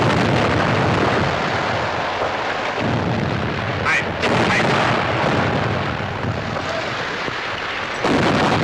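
Loud rapid artillery fire from a submarine-hunting warship in a war film, a dense continuous barrage of booms and blasts with shouted commands mixed in.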